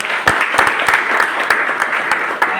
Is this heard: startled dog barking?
no